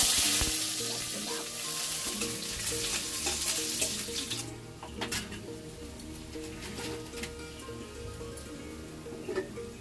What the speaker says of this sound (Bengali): এখানে আমি আজকে ডালিয়াটা ফুরন দিব শুকনো লঙ্কা পেঁয়াজ গোটা জিরে আর তেজপাতা চলো সব একবারে দিয়ে দিই